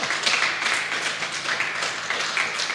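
A church congregation applauding in praise during a Bible study service, steady dense clapping lasting the full moment at moderate loudness with no speech over it.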